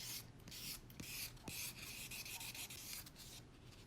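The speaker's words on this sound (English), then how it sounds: "this is for buffing, and just buff those edges" Metal stamping edges are buffed with a fine grit buffer in short, quiet rubbing strokes, a soft repetitive scrape with small taps between passes.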